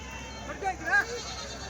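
Rams and goats bleat at the Tuesday sheep and goat market in Kadiri, a couple of close, wavering calls rising over crowd background while people talk nearby.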